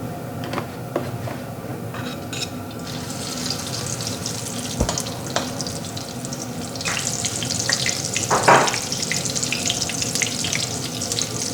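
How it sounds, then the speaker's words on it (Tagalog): Eggplant omelette (tortang talong) frying in oil in a hot pan: a steady hiss that swells into a loud, bright sizzle partway through and keeps going, with faint clinks and scrapes scattered through it. "Sa mainit na kawali, lagyan natin ng oil."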